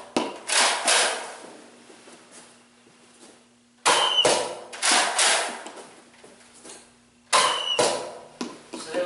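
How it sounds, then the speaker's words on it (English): Nerf N-Strike Elite Mega Magnus blaster firing, three sharp pneumatic pops spaced a few seconds apart, each followed by brief rattling and handling clatter, close and fairly loud with no talk. "let me shoot a few more times. This time I'll shoot towards the camera from here."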